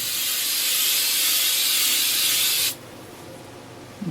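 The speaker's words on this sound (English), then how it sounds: "3M Super 77, but you know, you can use any kind of aerosol spray you can find" 3M Super 77 aerosol spray adhesive sprayed in one steady, loud, continuous hiss lasting about two and a half seconds, then cutting off abruptly to a quiet room.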